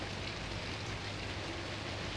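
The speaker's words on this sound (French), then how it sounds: "Il pleut." Steady heavy rain falling outside during a thunderstorm on holiday, a dense continuous hiss with no thunder clap standing out in this short stretch.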